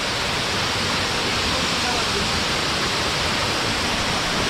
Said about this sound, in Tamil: இதுதான் அந்த வாட்டர் ஃபால்.